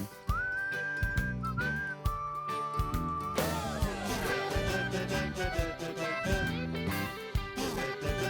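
Several people whistle a melody together while doing a seated exercise for Parkinson's, the tune steady and close over the length of the passage with no talking.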